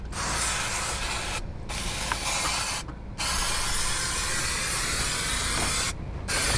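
Spray adhesive hisses from a can onto EVA foam being fitted in a boat, long loud continuous bursts broken by three short pauses.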